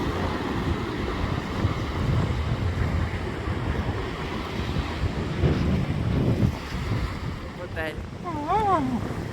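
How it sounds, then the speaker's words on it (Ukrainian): Sea surf and strong wind buffet the microphone on a beach at Maspalomas, Gran Canaria, a steady broadband roar of breaking waves throughout, with a brief voice near the end. "Такі хвилі сьогодні."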